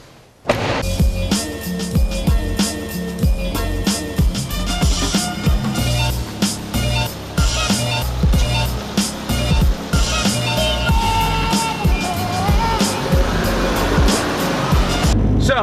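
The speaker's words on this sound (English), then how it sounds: "So I'm testing the brakes out right now." A car out on a short test drive after its brakes have been bled, its engine and road noise loud and continuous with repeated knocks and bumps throughout, no talking.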